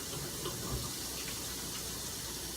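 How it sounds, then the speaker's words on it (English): Hands being washed under a running kitchen tap, a steady close rush of water splashing into a sink with slight shifts as the hands move through the stream. "Wash my hands."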